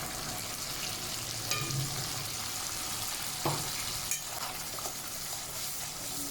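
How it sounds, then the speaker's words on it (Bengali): Ground tomato masala frying and being stirred in oil for a rohu fish curry, a continuous soft sizzle with a few scattered spatula knocks against the pan, quiet and without talk. "এবার নাড়তে থাকবো, এই পুরোটা কষাতে। মশলাটা কষা হচ্ছে।"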